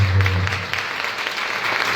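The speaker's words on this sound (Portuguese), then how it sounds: "Vamos aplaudir mais uma vez o Senhor." Congregation clapping at a Catholic healing and deliverance Mass, a loud, continuous roomy wash of hands with no voices standing out.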